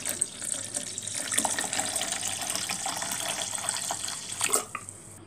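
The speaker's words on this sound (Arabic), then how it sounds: "وعليهم لتر مية،" About a liter of water pours steadily into a blender jar for a lemon-mint juice with milk and sugar, a continuous splashing gush running for several seconds close to the microphone with no talking.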